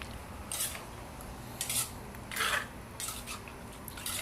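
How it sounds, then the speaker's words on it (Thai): Spicy Thai shrimp and squid salad being tossed together in a bowl, with a handful of short scraping clinks of utensils against the dish over a quiet background. "ขุกขะเขารอบหนึ่งให้เข้ากันครับ"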